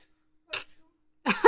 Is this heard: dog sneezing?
yes